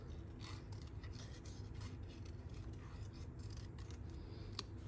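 Scissors snip steadily through a watercolor melon paper image, trimming away the excess around its edge to leave a thin white border, with close, continuous rasping cuts and no talking.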